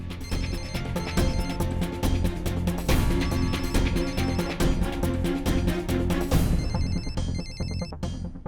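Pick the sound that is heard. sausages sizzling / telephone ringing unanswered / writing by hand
telephone ringing unanswered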